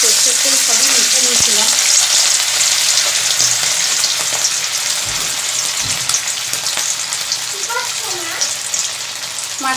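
Fish pieces frying in hot oil with turmeric in a wok, a loud steady sizzle running throughout with a few stirring knocks, and brief voices in the background.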